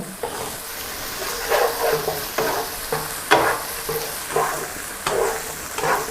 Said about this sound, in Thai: ผัดให้กุ้งสุกเลย